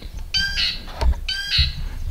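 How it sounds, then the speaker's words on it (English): A seagull calling from a dock on a lake near a cabin, two loud, harsh squawks close by, separated by a short pause, with no talking. "Oh, look at that seagull on the dock."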